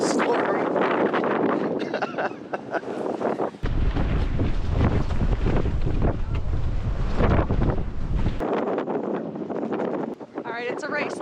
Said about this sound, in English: We were getting some crazy gusts of wind, like I want to say like 40, 50 mile an hour winds.